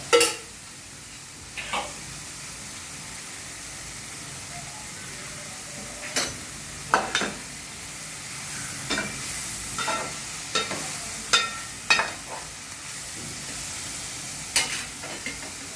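Ridge gourd curry cooks in a pan after a little water is sprinkled around it, giving a steady low sizzle and hiss with scattered stirring scrapes and clinks, close and alone.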